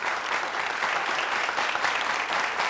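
Steady, dense studio audience applause greeting a slam poet on a Burkina Faso TV entertainment show, sustained and even throughout with no voices over it.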